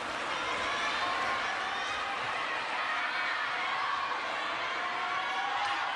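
Spectators at a women's singles quarterfinal table tennis match in Yokohama, a steady, dense murmur of crowd chatter and reaction with faint cheering, sustained for several seconds.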